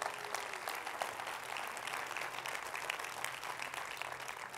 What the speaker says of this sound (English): clap your hands to the Lord one time right there